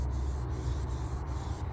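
Rhythmic back-and-forth sanding on a painted carbon fiber skin over a Pontiac trunk, a close, steady abrasive rasp with regular strokes.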